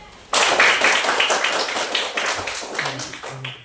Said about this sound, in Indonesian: di sini ibu minta tepuk tangan dulu untuk kita semua.